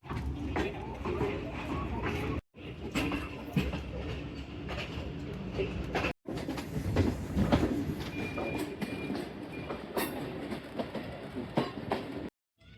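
A train rolling into Mehta Suja railway station with a steady rumble and clatter of wheels, close and loud, with a voice talking over it throughout.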